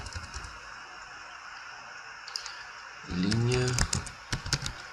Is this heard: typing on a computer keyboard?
yes